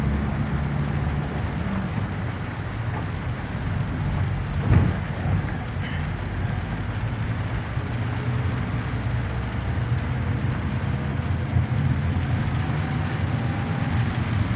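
Steady, dense rush of heavy rain on a flooded road in Dammam, Saudi Arabia, a constant broadband roar with no breaks, one brief louder knock partway through.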